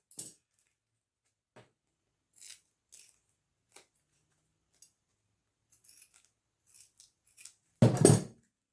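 Scissors snip excess tape on a homemade cardboard loot llama craft: a few faint, sparse clicks and small snips, ending in one louder, closer cutting crunch.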